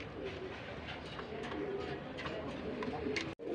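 Domestic pigeons of a local round breed coo softly in a loft, low rolling calls under faint background noise and a brief dropout near the end.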